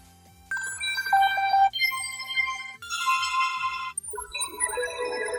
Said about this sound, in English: This one kind of sounds like the Wii startup sound